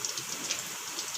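Pakoras frying in hot oil, a close, steady crackling sizzle with dense hiss and tiny popping bursts throughout the short stretch.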